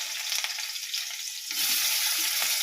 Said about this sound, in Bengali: তো প্রথমে তেল দিয়ে দিচ্ছি, তেলের ওপরে পেঁয়াজ,